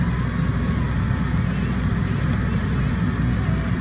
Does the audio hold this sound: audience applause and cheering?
no